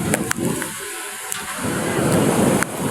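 Strong wind buffets the microphone with a loud, steady roar, and rain hisses throughout, with occasional gusty peaks.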